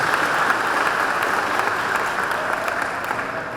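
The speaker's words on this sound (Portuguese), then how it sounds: "Vamos dar uma salva de palmas para a nossa liderança, irmãos?" A congregation claps steadily in a dense, sustained wave for church leadership at a national church convention marking a fiftieth jubilee, a loud, even roar of many hands with no voices standing out.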